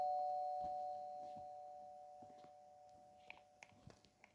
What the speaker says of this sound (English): That is a very professional doorbell ring.